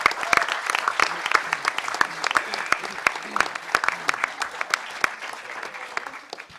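A hacker conference audience at The Last HOPE in 2008 breaks into enthusiastic applause, a dense stretch of many hands clapping with crisp individual claps standing out, close and sustained for several seconds.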